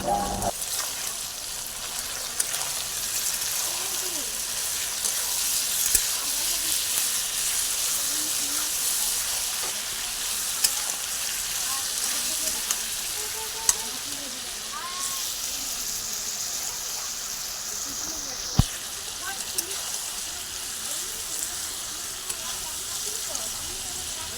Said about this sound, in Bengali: তারপর তো চলো ভালো করে কষিয়ে নিই